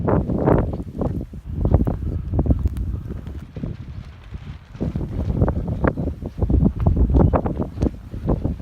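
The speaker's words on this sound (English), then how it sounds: "Very windy today." Strong wind gusts roar across the microphone outdoors beside a truck hauling hay, a continuous buffeting low rumble rising and falling in uneven bursts, with no talking.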